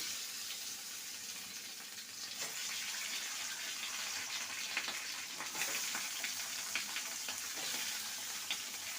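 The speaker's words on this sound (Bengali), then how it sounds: "এবার এগুলোকে তেলে ভেজে নেব" Cabbage paturi wrapped in banana leaf fries in hot mustard oil in a pan on a gas stove, a soft continuous sizzle and crackle with faint pops, heard alone without talk.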